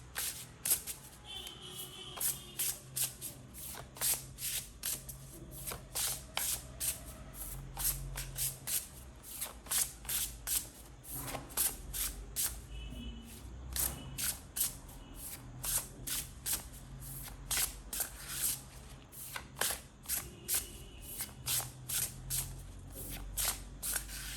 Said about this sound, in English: now let me pick up an advice card for you here